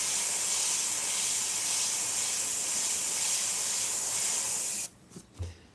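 An Iwata CM-SB airbrush sprays Createx paint in a loud, continuous close-up hiss that cuts off abruptly near the end, leaving a couple of soft thumps.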